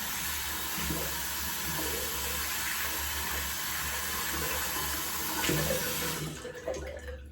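Tap water runs steadily while a shaving brush is rinsed under it, a close continuous splashing stream that cuts off near the end.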